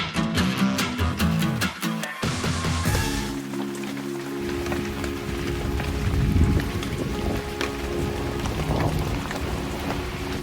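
Steady rain falls outdoors on a March day in Poland, a continuous hiss that carries through the whole stretch, with some tonal sounds near the start before the rain noise settles in alone.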